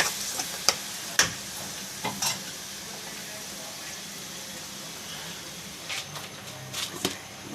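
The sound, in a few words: onion paste frying in oil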